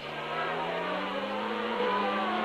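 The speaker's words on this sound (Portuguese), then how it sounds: "Você deu uma curtida no som do motor Renault da Williams" A Williams Renault Formula 1 car driven by Riccardo Patrese at the Portuguese Grand Prix, its engine a steady high-pitched whine that climbs slightly, heard at a distance with a low rumble beneath it.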